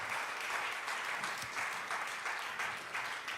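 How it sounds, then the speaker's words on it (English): A church congregation claps in a full, steady round of applause that stays loud and dense from start to finish, with no pauses. "Can we give these guys a huge round of applause?"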